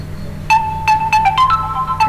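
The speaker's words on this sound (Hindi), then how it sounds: "पर आपको मोबाइल के अंदर रिंग बजाना है तो आप यहाँ से बजा सकते हैं" A mobile phone rings after being triggered remotely through Google Find My Device, a bright repeating electronic ringtone of quick tonal bursts, loud and close over a low steady hum.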